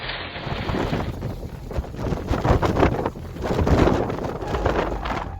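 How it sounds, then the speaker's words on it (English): Loud, turbulent roar of wind and churning water as strong waves overturn a rescue boat, surging in heavy swells, continuous with no voices. "A rescue boat is overturned by strong waves in a matter of seconds"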